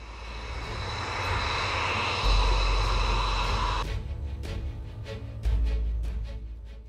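A U.S. Air Force F-22 Raptor stealth fighter jet roars steadily and loudly throughout, a broad sustained engine rumble with a shift in tone partway through, with no speech.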